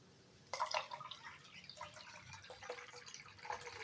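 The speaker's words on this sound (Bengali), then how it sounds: "দেখো আধা মগ জল দিয়ে দিলাম।" Half a mug of water is poured into a cooking pot: a sudden soft splash, then quiet trickling and dripping, faint and close, with no talking.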